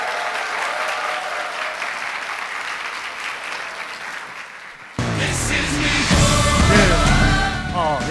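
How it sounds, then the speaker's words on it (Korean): An audience at a business seminar bursts into applause after a guest speech, first moderate and distant, then louder and fuller with a voice speaking over the clapping. "수고해주신 지효셉 대표님께 다시 한번 큰 박수 부탁드리겠습니다"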